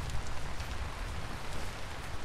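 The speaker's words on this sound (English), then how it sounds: "why is it raining here so much?" Steady rain patters down in the Vintage Story survival game, a dense, even hiss of falling drops with no voices over it.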